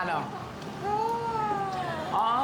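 A person mimics a cat's drawn-out, wavering moan, a short mewling wail that rises and falls, close and fairly clear.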